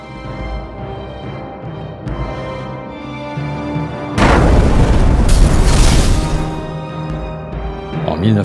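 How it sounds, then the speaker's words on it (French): German artillery shell landing in a town, heard as a sudden heavy blast that roars and rumbles for about three seconds, rising out of a quieter tonal background and then fading back into it. "les premiers obus allemands tombent sur Hautmont et endommagent le bâtiment"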